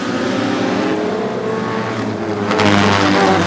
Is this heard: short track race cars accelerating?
yes